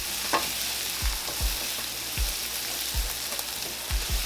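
Olive oil and butter sizzle in a pan with a soft, even hiss, close by, punctuated by several dull low thuds of a utensil stirring at irregular intervals.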